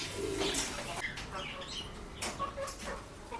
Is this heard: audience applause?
no